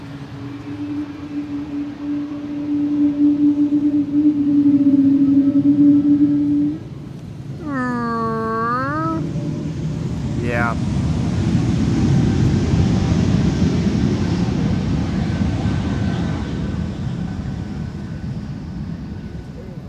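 Airplane taking off from Schiphol's Polderbaan runway 36L, a steady loud engine roar swelling and rumbling for a long stretch, with a rising whine and a brief tonal sweep partway through.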